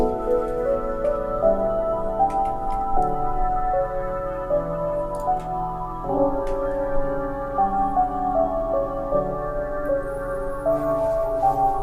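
Sustained synth pad chords shift through a slow progression, each chord held for a couple of seconds at a steady, moderate level with no voices.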